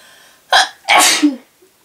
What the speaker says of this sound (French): Toujours éternuer dans son coude.